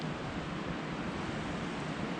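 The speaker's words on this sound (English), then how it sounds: "It's windy" Constant rushing wind on Colorado public land buffets the microphone, a dense, steady roar with no other sounds.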